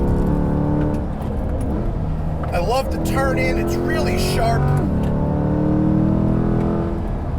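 A 2020 Corvette C8 Z51 engine drones and revs up and down on a track beneath someone talking, with the roar steady and close throughout.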